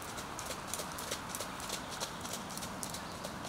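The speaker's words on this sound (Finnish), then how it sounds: "Nuppu on suomen hevonen ja hänen oikea nimensä on Kullan Nuppu." A Finnhorse's hooves clip-clop steadily in a Turku national urban park, with an even rhythm of close, distinct hoof strikes and no voices.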